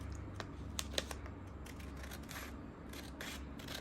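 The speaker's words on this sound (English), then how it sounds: "I'm going to get my scissors" Several crisp snips of scissors cutting through a diamond painting chart, irregular clicks over a low steady hum.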